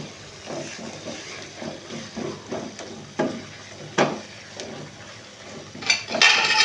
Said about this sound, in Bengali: গুড়টা দিয়েছি, এবার এটা গুড়টা দিয়ে একটু নেড়ে নেব